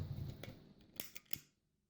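A few sharp, close snips of scissors cut through the end of a cord, quiet and quick, followed by a brief faint handling rustle before silence.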